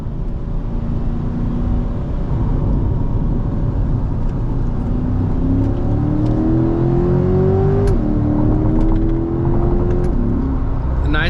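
A Corvette C8 Dubai Edition engine drones and climbs in pitch as it accelerates, heard from inside the cabin, with a quick drop at a gear change and renewed revving, loud and steady throughout.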